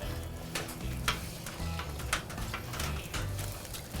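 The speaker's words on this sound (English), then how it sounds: "We're gonna give this a little stir." Jambalaya sizzling steadily on a hot Blackstone griddle while being stirred, a continuous frying hiss broken by scraping clicks of the utensil, close and fairly loud with no talking.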